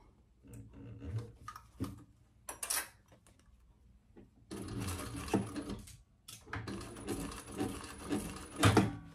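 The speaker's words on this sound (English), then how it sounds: "now we're gonna stitch those together" A sewing machine stitches fabric pieces of a commuter bag together in short irregular bursts, a close rattling whir that starts and stops several times between fabric rustles and handling clicks.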